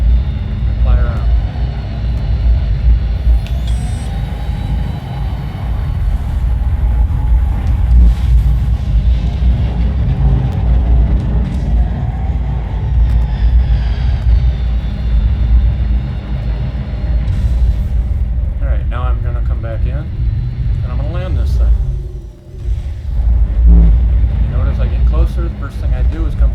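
Steady low rumble of a spaceship engine in flight in the Star Citizen video game as throttle increases, a loud continuous drone with a brief dip near the end, with someone talking over it.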